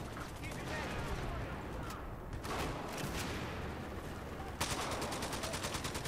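Rapid gunfire and machine-gun bursts rattle continuously in the video game Battlefield 4, a dense battlefield clatter with a sharper close burst near the end, while a player talks over it.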